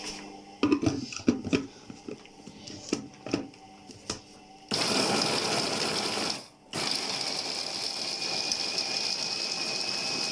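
An electric grinder grinds almond filling for honeyed, crispy rghaif; a few clattering knocks come first, then a loud, steady motor whir starts, cuts out briefly, and resumes to the end.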